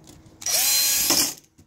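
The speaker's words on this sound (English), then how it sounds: "the trusty drill with the very small bit on it" A small power drill with a very fine bit bores through model railroad track. It gives one steady, close whine of just under a second that stops abruptly, and nobody speaks.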